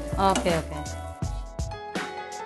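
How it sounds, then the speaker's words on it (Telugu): Curry leaf powder being stirred into frying rice in a pan, with loud scraping strokes and a background sizzle, several uneven stirs across the moment and no talking. "కరివేపాకు పొడి వేసుకొని బాగా కలుపుకోవాలి"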